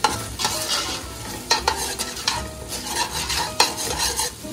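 A spoon scrapes and stirs the bottom of a frying pan holding mustard chicken. Steady sizzling runs underneath, broken by close, loud scraping strokes with no talking.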